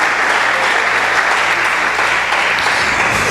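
A church congregation claps during a morning worship service, with dense, steady applause filling the whole stretch at close range and a faint voice or two beneath it.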